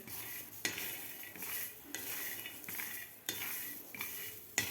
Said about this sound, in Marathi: आता व्यवस्थित आपल्याला याला डाग पडेपर्यंत आपल्याला हे तुरीचे दाणे भाजून घ्यायचे आहेत